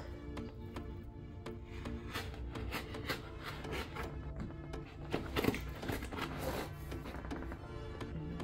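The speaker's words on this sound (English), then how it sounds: "cut a line in the box" Blade cutting a line in a cardboard box: continuous close rubbing and scraping with small taps and a louder crunchy rasp near the middle, heard over a low hum.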